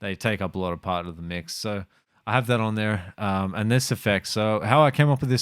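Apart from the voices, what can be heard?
No distinct noise like a dog, phone or traffic.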